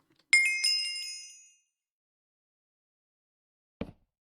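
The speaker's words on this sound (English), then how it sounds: "Starting plugin for giving me occasional chimes." A bright electronic chime from a streaming plugin rings once and decays over about a second, followed after a long silence by a brief soft click.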